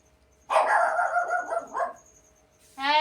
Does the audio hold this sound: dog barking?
yes